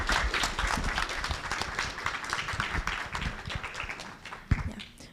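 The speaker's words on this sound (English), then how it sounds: "Our judges, so big round of applause." A crowd at a live competition night applauds the judges, dense clapping from many hands close by that gradually thins and fades toward the end, with one sharp knock near the close.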